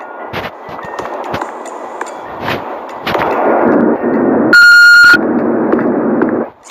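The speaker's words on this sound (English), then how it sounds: "What's that beeping?" An answering machine in a ransacked, deserted house gives a single clear electronic beep, a sustained bright tone lasting under a second, amid a rustling room ambience with scattered clanks.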